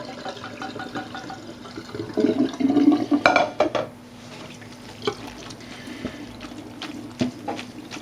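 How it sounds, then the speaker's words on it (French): Pasta and its cooking water pour into a colander in a loud splashing gush lasting a couple of seconds, then fade to faint dripping and trickling. "On va déverser l'eau et les pâtes dans la passoire, comme ceci, pour les égoutter"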